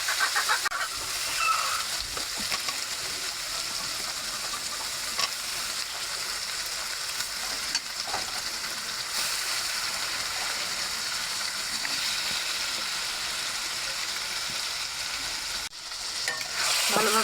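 Chicken meat and spices sizzle and fry in a pot on a clay stove, with steady hissing and occasional scraping stirs throughout, close and continuous with no talking.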